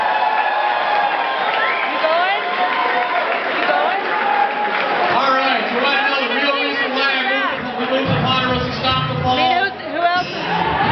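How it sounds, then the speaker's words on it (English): An audience at a birthday party event breaks into applause and cheering, a loud sustained roar of clapping and shouts with chatter mixed in throughout. "give him a big round of applause."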